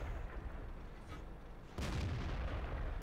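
The tank gun of a T69 fires on the move in the video game World of Tanks, one sudden loud deep boom partway through, after a steady rumble of the moving tank, with no talk.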